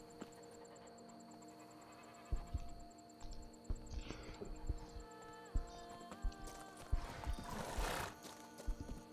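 Horse in the Witcher 3 video game, hooves clip-clopping in an irregular gait with a loud neigh near the end, layered over a soft steady background hum and music.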